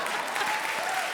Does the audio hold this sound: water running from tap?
no